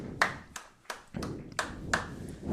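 Scattered applause from a small, mixed crowd in the fan section at a varsity high school soccer game at Stransky Field on senior day, with several separate sharp claps and taps spread across the moment, fairly distant and light.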